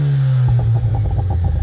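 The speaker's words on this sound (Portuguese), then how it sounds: "vou aproveitar para mostrar para vocês o ronco do escapamento" A RAM Rampage R/T 2.0 turbo pickup's exhaust note, heard close up: a steady idle drone, then a quick rev with a throaty, crackling burble.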